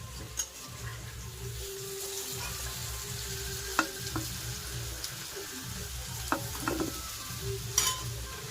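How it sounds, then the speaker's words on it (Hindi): Potatoes fry in hot oil in a home kitchen, giving a steady close sizzle broken by a few sharp clinks of a spoon against the pan. "अभी आलू फ्राई भी हो गया, देख रहे हो आप।"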